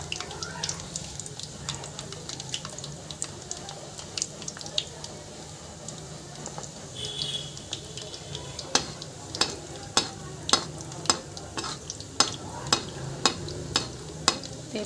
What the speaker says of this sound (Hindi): तेल को हिलाएंगे हम, इन्हें टच नहीं करना है।